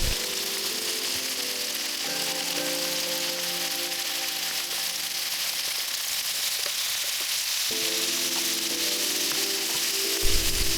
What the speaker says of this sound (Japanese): 両面焼き色がつくまでしっかり焼いていく。